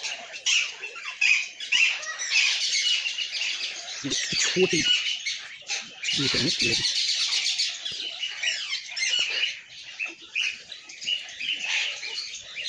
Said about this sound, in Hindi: Red rested parakeet.